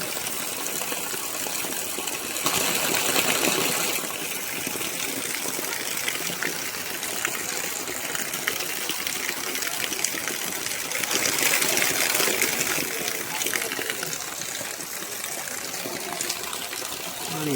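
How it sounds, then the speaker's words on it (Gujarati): Heavy monsoon rain pours down in a dense, loud, continuous rush of water, with the roar swelling slightly at moments and no clear voices. "અત્યારે આપણે વરસાદ આવી ગયો"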